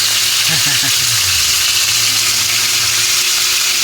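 Squid frying with garlic in a hot pan, a loud continuous sizzle with stirring throughout and a brief low voice murmur early on.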